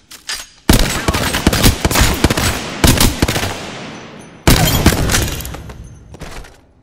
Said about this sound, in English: Firing. Shots fired in there.